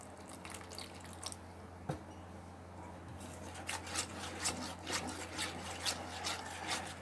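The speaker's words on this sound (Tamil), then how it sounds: "இப்போ இதில் தேவையான அளவு தண்ணி ஊற்றிக்கோங்க." Water poured into cauliflower pakora batter in a bowl, then stirred by hand: soft wet rubbing and squelching strokes in an irregular rhythm, close and fairly quiet, with no talking.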